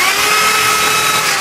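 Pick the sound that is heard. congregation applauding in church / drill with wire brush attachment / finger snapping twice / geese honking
drill with wire brush attachment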